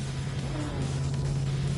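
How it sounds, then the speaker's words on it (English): A car engine revs in the Gran Turismo 7 racing game during a Manufacturers Cup race at Bathurst, a steady moderately loud droning hum with a strong low tone and no voices. "Can you hear somebody revving the rev?"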